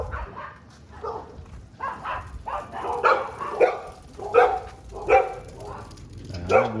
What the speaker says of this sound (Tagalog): Nag-wild yung mga aso namin.